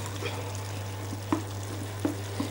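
Bell peppers, small carrots and onion sautéing in a pan, a soft steady sizzle close by with a few sharp utensil scrapes and clicks against the pan, no voices.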